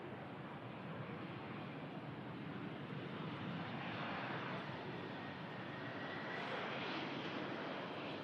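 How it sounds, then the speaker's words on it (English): A Virgin Atlantic Airbus A330 departing Manchester for Atlanta gives a steady, distant jet roar that swells slightly and holds as a broad wash of engine noise, with no voices over it. "Heading out on the Virgin to Atlanta. Assume she's on one of the Airbus A330s then."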